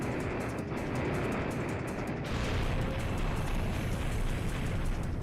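An explosion in a video game, a loud dense rumbling blast that swells and then roars on steadily for several seconds, with no speech.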